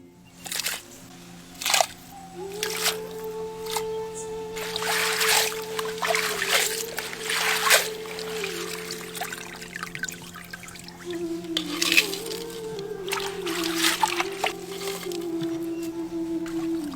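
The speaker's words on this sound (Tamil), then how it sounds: "இப்ப நண்டை தண்ணியில போட்டு சுத்தமா கழுவி எடுத்துக்கலாம்." Pieces of crab for a spicy Tamil crab fry are rinsed and swished in water, with splashing, trickling and dripping sounds coming in irregular bursts close by, over a steady low background hum.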